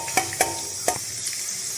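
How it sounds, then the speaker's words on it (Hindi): Green chillies and garlic cloves fry in mustard oil in a wok, a steady soft sizzle broken by three or four sharp spatters or stirring clicks near the start. "कढ़ाई में डालेंगे सरसों का तेल, दो हरी मिर्च और चार से पांच कलियां लहसुन की। इसको हम फ्राई कर लेंगे।"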